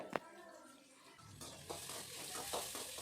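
Sliced big onions sizzle and fry in a pan for a Tamil fish curry, with a sharp clink of a spoon followed by soft stirring scrapes under a steady faint frying hiss.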